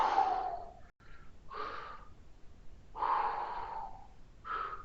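A person doing a bridge exercise during a strength workout breathes heavily, with several loud, breathy exhales and inhales in an uneven rhythm, close to the listener and without speech.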